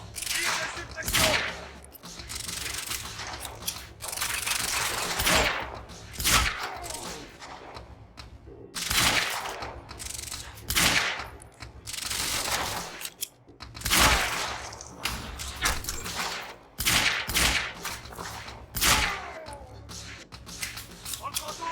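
Gunfire rattles through a firefight in the video game Quantum Break, with bursts and volleys of shots repeating over about twenty seconds, loud and close, mixed with game voices calling out.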